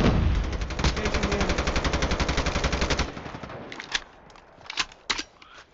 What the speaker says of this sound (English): He's getting shot by somebody else.